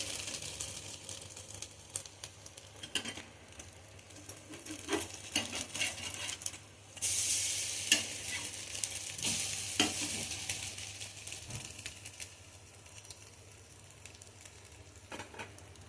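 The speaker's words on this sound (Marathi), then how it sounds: "आता ही बाजू पण आपण तशीच मस्त फ्राय करून घ्यायची" Egg-dipped bread frying in a pan after being flipped, a quiet continuous sizzle that swells louder for a few seconds midway, with occasional light clicks and taps from the spatula.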